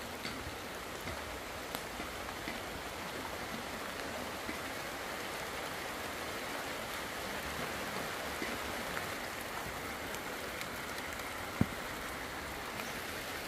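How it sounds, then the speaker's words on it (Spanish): Heavy rain pours down steadily over a house construction site, a dense, constant hiss of drops on surfaces with no letup, filling the scene evenly from start to finish. "Ya viene fuerte la lluvia."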